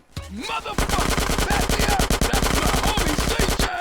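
Rapid automatic gunfire in GTA San Andreas, a loud, sustained burst of closely spaced shots rattling almost continuously for several seconds with barely a pause.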